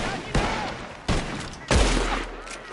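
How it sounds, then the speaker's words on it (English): Gunfire in Red Dead Redemption 2, three loud separate shots spaced about a second apart, each with a sharp crack and a booming tail, the last one the heaviest. "The gunshots are coming from that barn!"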